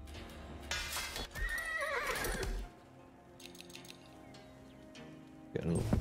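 Age of Empires 4 horse neighs and whinnies loudly with clip-clopping hooves, in a Mongols versus French match, followed by quieter game sounds and a short burst of noise at the end, with a voice talking.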